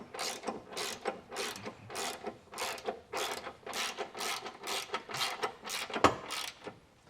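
A socket ratchet clicks in steady, evenly spaced strokes, about a dozen pulls, while tightening bolts on a Stealth Hitches hidden hitch receiver on a 2022 Jeep Grand Cherokee, close and fairly quiet.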